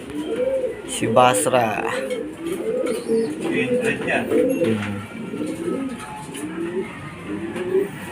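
Racing pigeons coo softly and repeatedly on arrival at a loft after a club fun race, a low rolling murmur under someone talking nearby.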